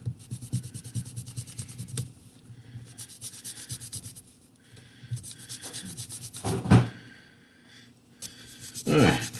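Eraser rubbing back and forth on drawing paper, close and fairly loud in repeated scrubbing bursts, with someone talking between and over the strokes.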